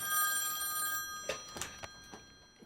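A telephone rings faintly for about a second with a steady electronic tone, then stops, followed by a few soft clicks and knocks in an otherwise quiet room.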